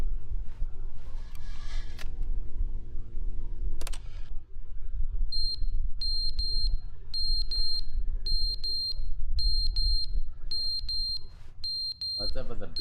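Fire alarm in The Stanley Parable video game beeps in a rapid regular series of high electronic chirps after some earlier game sounds, loud and close.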